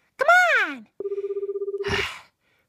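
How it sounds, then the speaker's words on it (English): A telephone rings in a steady pulsing burst of about a dozen rapid trills, loud and close, after a rising-and-falling vocal sound and before a short breathy noise. "Phone call, Venusaur."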